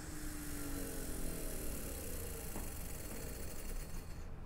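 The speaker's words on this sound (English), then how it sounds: "I'm gonna turn that motor off. I'm gonna slow it down a little quickly here." An electric spindle motor on a monitored machine gives a steady, close whine with a low hum underneath. The whine slowly lowers and cuts out near the end as the motor is switched off.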